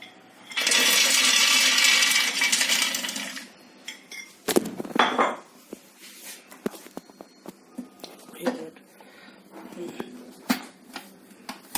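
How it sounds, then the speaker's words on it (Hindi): A mixer grinder whirs loudly for about three seconds while pulverizing pistachios into powder. It stops, then scattered clinks and knocks of the container and lid follow. "अब ये हमारे पिस्ते पीस के तैयार हो गए हैं।"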